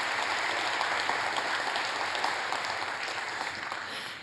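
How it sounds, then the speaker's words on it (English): Audience applause at an evening live political event, a steady dense wash of clapping throughout, loud and sustained, tapering slightly toward the end with no talk over it. "You guys are clapping too soon"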